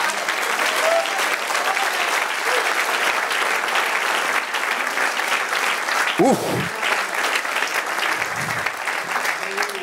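A church congregation applauds during a sermon, steady loud clapping throughout, with a brief voice exclaiming partway through and a few murmurs underneath.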